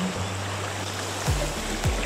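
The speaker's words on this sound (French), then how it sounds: "Marche dans la rivière, bien fraîche." Wading on foot through a cool river, with steady running water and a low continuous rush, plus a couple of soft splashing steps from close by.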